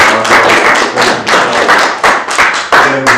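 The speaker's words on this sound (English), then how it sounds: "let's give her a round of applause for use of the library" A small crowd at a county assessor's community meeting in a Colorado library gives a round of applause, loud, close and uneven, with a few brief dips between bursts of clapping.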